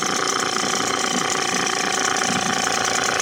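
A Mercury 5 HP long-shaft outboard motor runs steadily, a continuous close buzzing drone without pauses or rev changes.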